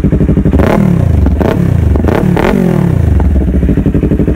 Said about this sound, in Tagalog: Ang lakas ng motor na to.